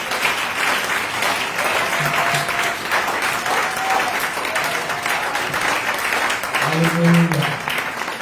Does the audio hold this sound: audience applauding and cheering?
yes